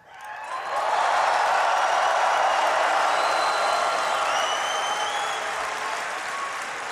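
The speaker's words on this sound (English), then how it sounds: "I want everyone here to give a big cheer to all of your friends watching at home." A BlizzCon 2013 opening-ceremony crowd of about 20,000 bursts into loud, sustained applause and cheering that swells quickly and holds as a dense, roaring wash before easing slightly.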